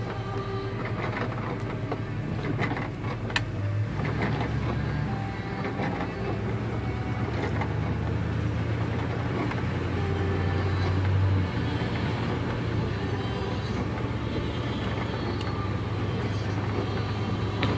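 Classic Chevrolet car driving straight ahead, heard from inside the cabin as a steady, continuous rumbling road and engine noise with faint rattles and no pauses.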